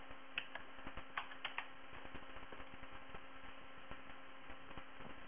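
Keys tapped on a computer keyboard to enter a value, a scattering of soft irregular clicks over a steady electrical hum, quiet and close.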